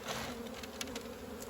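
Honey bees buzz at a struggling hive in a wet Orara Valley apiary, a close, steady, dense hum with no talk.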